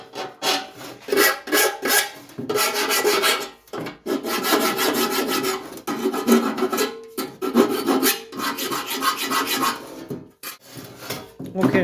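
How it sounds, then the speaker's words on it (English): A metal file worked around the sharp edges of a replacement battery box for a 1974 MK3 classic Mini: steady, close rasping strokes in long back-and-forth bursts with short pauses, a voice faintly in the background. "just go around with the file"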